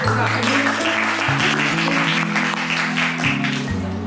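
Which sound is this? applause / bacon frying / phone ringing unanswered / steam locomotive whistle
applause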